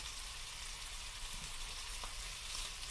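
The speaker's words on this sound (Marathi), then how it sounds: "कांदा फोडणीला टाकायचा" Chopped onion sizzles in hot oil as a tempering for a potato bhaji, giving a steady, faint, even hiss that runs unbroken for about three seconds with no talking.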